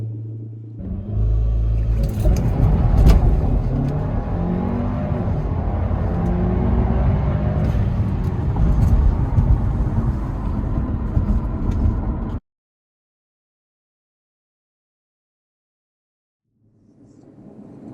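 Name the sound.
tuned Audi A4 launch control acceleration 0 to 60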